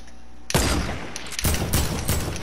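Sniper gunfire in the video game Fortnite on console: a sudden loud burst of shots, a brief break, then a second dense volley of rapid cracks, with no talk.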